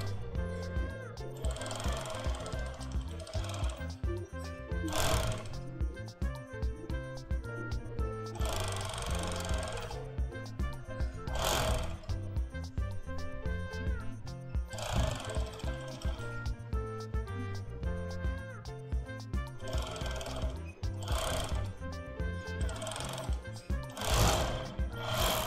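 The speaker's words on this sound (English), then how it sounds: "Napiga overlock namna hiyo." An overlock sewing machine stitches shirt fabric in fast whirring bursts, each run of rapid needle chatter separated by brief pauses, with a voice speaking in between.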